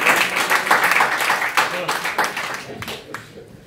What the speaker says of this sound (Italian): E con questo parte l'applauso.